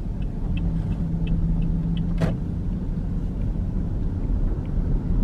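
An automatic car is driven in a lane change while the driver presses lightly on the gas pedal. A steady low engine and road rumble is heard from inside the cabin, with one brief sharp click partway through and no talking.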